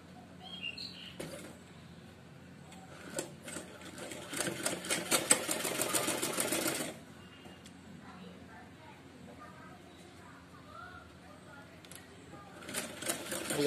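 Sewing machine stitching a cotton baby frock, running in short bursts with a longer rapid whirring run in the middle, fairly quiet, with birds chirping faintly in the background and someone talking.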